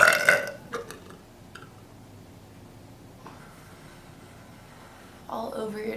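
A person burping close to the microphone, one loud throaty burp at the start and another near the end, separated by quiet near-silence with faint small noises.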